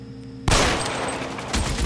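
Gunfire in a shootout in L.A. Noire erupts suddenly after a quiet moment, a dense, loud rattle of rapid shots that keeps going, with a second burst near the end.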